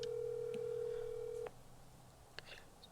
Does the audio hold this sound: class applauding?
no